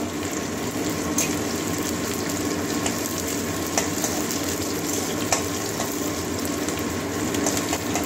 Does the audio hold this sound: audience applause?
no